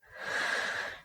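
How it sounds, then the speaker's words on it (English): A single slow, deep breath drawn in, soft and close, rising and then tapering off after about a second. "take a deep breath"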